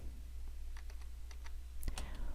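Arrow keys on a computer keyboard are tapped in a quick run of light, crisp clicks, close and fairly faint, with a couple of sharper presses near the end.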